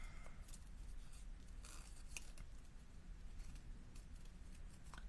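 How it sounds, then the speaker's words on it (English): Scissors snipping through cardstock by hand, a string of close, quiet crisp cuts and paper rustles at an uneven pace with no talking. "I'll just cut them out."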